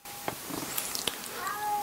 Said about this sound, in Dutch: word ik weer door mijn kat onderbroken